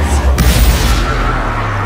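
Propello spell cast in Hogwarts Legacy, sending objects flying: a loud, dense burst of magical impact with a sharp bang near the start, followed by a sustained rumbling crash that holds steady to the end.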